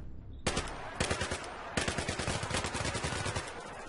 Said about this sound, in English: So what, do I just shoot them all up?